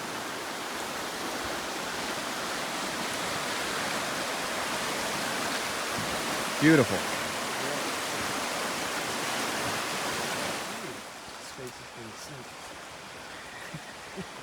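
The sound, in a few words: flowing creek water on a hiking trail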